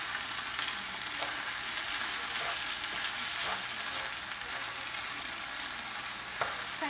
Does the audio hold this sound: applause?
no